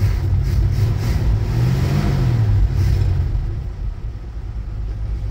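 A 1966 Ford Bronco's engine running at idle in neutral, its carburetor leaking and due for a rebuild; a close, loud, steady mid-low engine drone that dips slightly toward the end with no talk.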